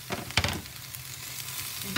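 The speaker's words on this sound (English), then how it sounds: "Now I'm going to go ahead and add my onions to it." Onions tossed into a frying pan of browned potatoes over medium heat, a brief close stir and clatter followed by a steady soft sizzle.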